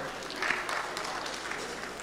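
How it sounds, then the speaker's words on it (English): Steady crowd applause at a live show, sustained clapping for two seconds with a faint voice underneath. "let's clap for Dayo Israel, let's clap for him, national youth president."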